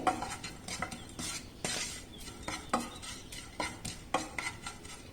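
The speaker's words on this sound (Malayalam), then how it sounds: "ഫ്ലെയിം തീരെ കുറച്ച് വെച്ച് വേണം നമ്മൾ ഇത് വറുത്തെടുക്കാനായിട്ട് ഈ മുളക് പൊടിയെ" Chilli powder dry-roasted and stirred in a pan over a very low flame for a raw mango pickle, giving a steady run of rhythmic scraping strokes with a soft sizzle underneath, close by and free of talk.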